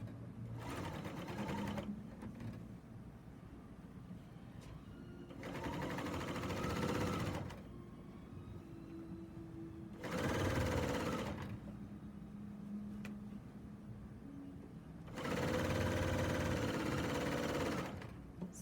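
Serger sewing machine stitching binding onto a six-cornered quilt, running in four separate whirring bursts of a few seconds each, close and steady, with quiet pauses between them.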